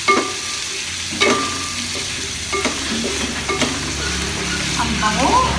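Shrimp sautéing in a pan after garlic and onion, with a steady sizzle and fry hiss throughout, broken by occasional clanks and scrapes of a utensil stirring the pan.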